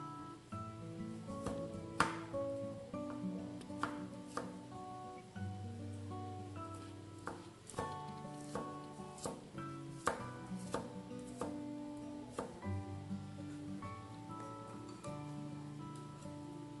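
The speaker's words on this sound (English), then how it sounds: "We start by slicing up some garlic." A knife slices garlic on a cutting board, producing a steady run of close, crisp taps under background music with no talking, as part of preparing sauteed mung beans.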